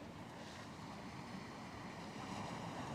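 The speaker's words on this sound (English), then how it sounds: "So you guys could hear the water." Ocean surf at Coney Island in winter washes in a steady, faint broadband wash mixed with wind noise buffeting the microphone, no voices.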